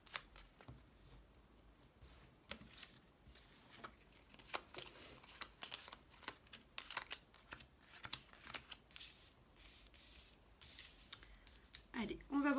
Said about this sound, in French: on mélange toutes ces cartes